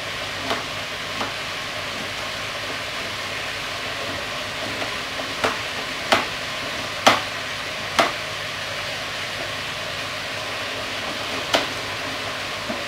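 Meat and onions sautéing in a pot, a loud continuous sizzle and crackle filling the whole stretch, punctuated by a handful of sharp scraping or stirring clacks spaced irregularly, with no voices.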